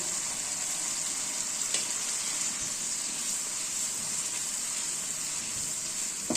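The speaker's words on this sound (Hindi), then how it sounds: "इनको अच्छी तरह से भून लेना है।" Kofta seasoned with a little turmeric fries in a pan, giving a steady, close, even sizzle with faint stirring scrapes throughout and no talking.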